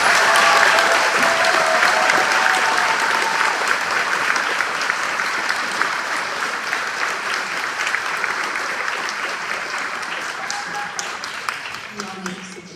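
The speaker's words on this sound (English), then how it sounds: "Can we please give them a round of applause?" Audience applause for 4th graders at an elementary school celebration, loud and sustained, a dense wash of clapping that slowly tapers toward the end, with a voice briefly audible near the close.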